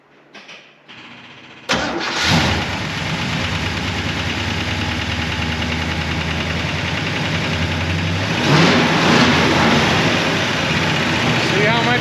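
A 1966 Oldsmobile 442 V8 with an Edelbrock carburetor cranks and fires up, then idles with a deep rumble before revving louder near the end, loud and close.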